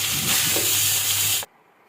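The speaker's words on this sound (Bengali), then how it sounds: "কড়াইয়ে কিন্তু আপনারা এইভাবে মাছ ভাজি বা যে কোনো ধরনের ভাজি করতে পারেন" Loud, steady hissing spatter of fish frying in hot oil in a kadai, close up, then cutting off abruptly into near silence.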